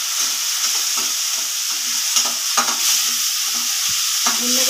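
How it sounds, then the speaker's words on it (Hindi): Chopped tomatoes for poha fry and get stirred in a hot pan, a steady sizzle broken by repeated scraping strokes of the spoon, close and loud with no talking. "अब इसको डालेंगे, इसको थोड़ा भूनेंगे।"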